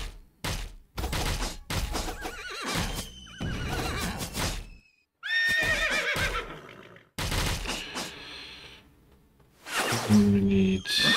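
Horses in a PC strategy game, Love N War: Warlord By Chance, whinny and neigh in several separate bursts, loud and close, mixed with clopping hooves and game sound effects.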